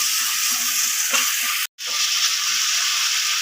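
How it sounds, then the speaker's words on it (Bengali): Ginger, green chilli and tomato paste fry in hot oil with a steady, loud, close sizzle, broken by one brief silent gap before the frying resumes. "আর দিচ্ছি কিছুটা টমেটো পেস্ট এটাকে যাতে আদার গন্ধটা কাঁচা লঙ্কার কাঁচা গন্ধটা না থাকে ভালো করে তেলে ভেজে নিচ্ছি"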